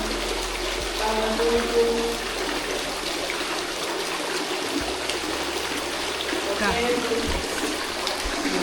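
A waterfall inside Goa Cerme cave produces a continuous rushing roar that fills the space, with people talking briefly over it.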